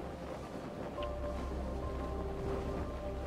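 Wind rushes steadily past an airship sailing through the sky in the game Worlds Adrift, a broad airy whoosh with faint watery swell, holding at an even, moderately close level throughout.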